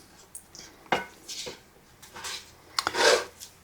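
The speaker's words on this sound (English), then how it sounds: "let me stir all this together" Cheddar ranch beef casserole mixture with onions and peppers being stirred in a pot, a few scraping, rubbing strokes of a utensil against the pot, separated by brief pauses.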